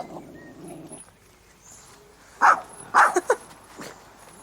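A dog barks indoors in a drama scene, several short loud barks in a quick cluster after a quieter stretch, close and alone.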